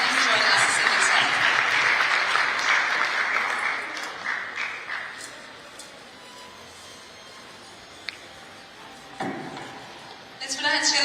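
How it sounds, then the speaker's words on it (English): Applause from the audience at the 25th Biennial Convention of the Federation of Freight Forwarders in India, an evening event, starts loud and dense, then thins and fades after a few seconds, leaving a quiet room with faint clinks. "A round of applause, please, for Mr. Sanjay Kumar Agarwal."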